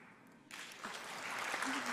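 Audience applause at a 2018 festival speech erupts after half a second of near-quiet, then dense, steady clapping fills the rest, growing slightly louder toward the end.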